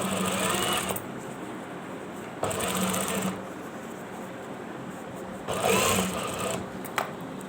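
A sewing machine stitches along the edge of a shirt cuff in three short, close bursts of rapid mechanical whirring, with pauses between them.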